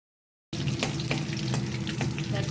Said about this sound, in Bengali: দারচিনি আর এলাচ দিয়ে দিলাম, আর দিয়ে দিলাম তেজপাতা, শুকনো লঙ্কা। একটু ভালো করে ভেজে নিই